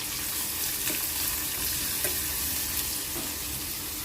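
Onion with split green chillies sautés in a pan for a Maharashtrian veg thali, producing a constant moderate sizzle up close with faint stirring clicks and no talking.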